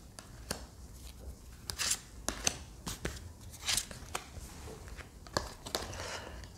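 Cards are drawn from a deck, giving a faint series of short, crisp paper snaps and slides, roughly a dozen small clicks and rustles spread over several seconds in a quiet room.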